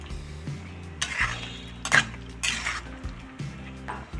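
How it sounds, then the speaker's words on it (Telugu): Drumstick and eggplant curry with cashews being stirred in a metal pot, catering style: a spoon scrapes and clinks against the pot in several separate strokes over a low kitchen hum, no talking. "వేసేసుకొని బాగా కలుపుకోవాలి."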